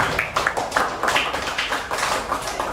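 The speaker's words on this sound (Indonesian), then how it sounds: "Oke, tepuk tangan semua" Applause from a classroom audience after a student's short-story reading, a steady wash of many hands clapping at close range, fairly loud and continuous with no talk over it.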